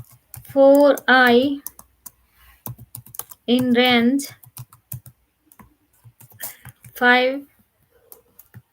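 Python code typed on a computer keyboard, a quick scatter of close, light key clicks between short spoken phrases.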